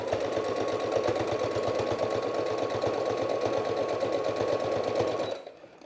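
A sewing machine runs a back stitch, its needle hammering in a fast, even rhythm, close and loud, then stopping abruptly near the end.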